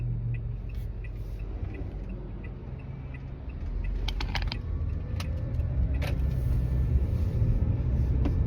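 A car starting to drive inside, with the engine's low steady rumble that rises a little as it pulls away, along with some key jangling and faint interior clicks.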